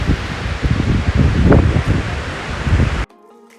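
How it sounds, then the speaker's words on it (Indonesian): Strong wind roars and buffets across the exposed summit of Gunung Abang in Bali, a loud, gusting rush battering the microphone for about three seconds before cutting off abruptly. "Inilah angin yang terjadi di summit Gunung Abang"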